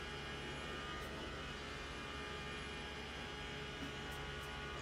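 Porsche GT3 engine at full throttle through Monza's Curva Grande in the Le Mans Ultimate racing game, a sustained steady drone and hum that holds level without breaks from start to finish.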